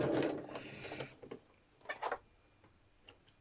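A home sewing machine stitches a seam on a hexie puff bag in short quiet bursts, with pauses and small ticks between runs, close and fairly soft.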